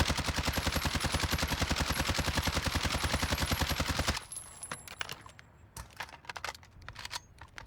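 Rapid automatic gunfire from a shooter video game, played with an aim-assist mod, rattles in a fast even burst for about four seconds, then gives way to a few scattered clicks and taps.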